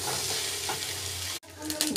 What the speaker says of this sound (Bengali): ওই তেলে আমি ফুলকপিগুলো ভেজে নেব।